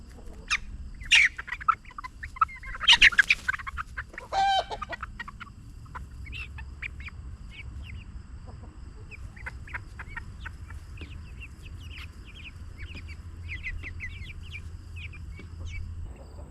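Silkie chickens cluck and squawk in a backyard coop, with a few loud close squawks at the start giving way to steady soft clucking and chirping from a small flock.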